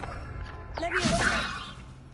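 A Leviosa levitation spell is cast in Hogwarts Legacy: a single rising magical whoosh with a whip-like swish, shimmering bright tones and a short thud, heard alone over a low ambient hum.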